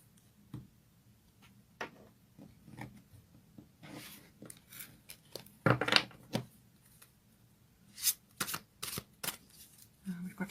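Tarot cards being shuffled in short, quiet bursts of riffling and flicking, with soft card slaps and brief pauses between handfuls.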